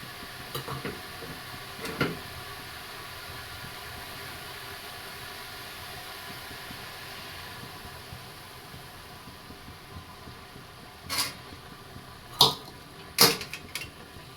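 Milk stirred into hot ghee in a pan, a faint steady hiss with sparse soft scrapes, then a few sharper clinks and scrapes close together toward the end.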